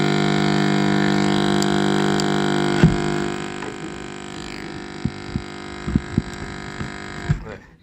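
A loudspeaker hums steadily after being switched on, a constant mains drone that drops slightly in level partway through, with a few soft thumps and clicks near the end and no talking.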